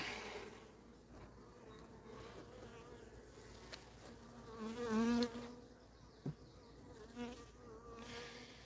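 Honeybees swarm around an opened beehive in a steady, close, droning buzz that rises and dips as individual bees pass near, with a few faint knocks and no talking.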